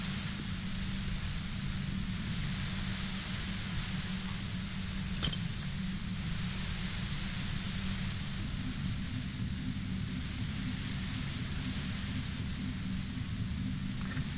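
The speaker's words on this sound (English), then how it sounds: "The violent white noise becomes even more overwhelming closer to the compressor." A near compressor in the video game Disco Elysium gives off violent white noise: a dense, unbroken roar with a heavy low hum underneath. It stays loud and even for the whole stretch, with no pauses and no voices.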